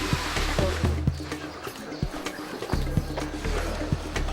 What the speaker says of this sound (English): Horse going through. I think it was a donkey.